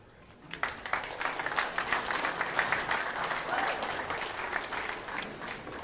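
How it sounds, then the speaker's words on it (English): At the final of the Apex Wisconsin 10-Ball Open 2023, a pool-hall crowd claps warmly after a moment of quiet, with a bright, moderately loud run of applause that slowly tapers off. "Appreciative crowd."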